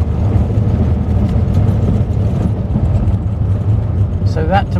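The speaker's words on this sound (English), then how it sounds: "So I'll go from second to third and floor it." A car with a semi-automatic clutch accelerating hard at full throttle in third gear, a loud, steady engine drone close up with a voice briefly heard near the end.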